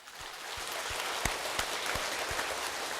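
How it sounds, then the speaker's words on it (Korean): A church congregation in Korea claps together in a blessing during a worship service, a dense, steady roar of many hands, fairly close and filling the room, with a few sharper claps standing out. "축복의 박수 한번 하겠습니다."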